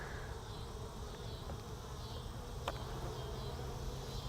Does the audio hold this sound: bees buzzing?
yes